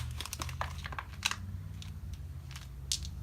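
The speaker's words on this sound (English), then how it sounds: "A little resealable baggie. Ziploc action." Small resealable Ziploc plastic baggie being opened and handled, a run of close, sharp crinkles and crackles in irregular bursts over a low background hum.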